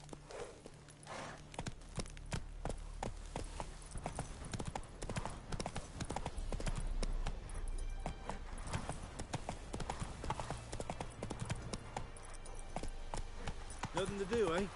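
Horse hooves from a video game clip-clop steadily as the horse is ridden, a fast continuous trot that stays prominent, with a voice talking over it and game sounds underneath.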